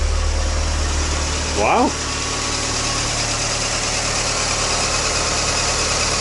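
A Mazda MX5 NA Miata engine idles at a steady low hum with the lifter tick nearly gone, broken briefly by one short exclamation.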